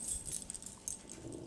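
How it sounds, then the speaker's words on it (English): A puppy growls low and rough at a set of keys, a close, continuous rumbling grumble with a few whimpering breaths, no talking. "that's the puppy we've got that insists on growling at weird things"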